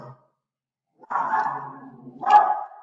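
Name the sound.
dog barking in background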